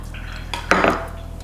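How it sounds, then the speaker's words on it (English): A metal utensil scrapes and clinks against a pot while excess oil is taken off cooked oxtail, one short scraping stroke with a brief clatter, close and fairly loud. "you can scrape off, get that oil off"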